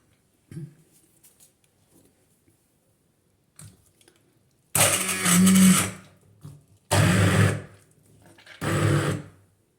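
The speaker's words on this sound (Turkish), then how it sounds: "Şimdi öncelikle fasulyemi blenderdan geçeceğim." Kitchen blender pureeing cooked dried beans for bread dough, three loud grinding bursts of about a second each separated by pauses, with soft handling clicks beforehand.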